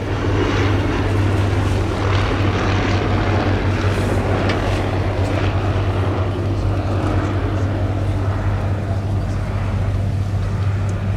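A Bristol F2.B fighter biplane flies at the 2018 Duxford Battle of Britain Airshow, its propeller engine a loud, steady drone that holds unbroken throughout.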